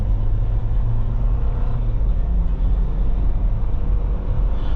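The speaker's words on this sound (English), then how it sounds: "let's go and get this Jeep on the drive" Interior of a 2020 Jeep Wrangler Unlimited Sahara on the move, with a steady, loud low-pitched engine and road rumble continuing throughout, no talking.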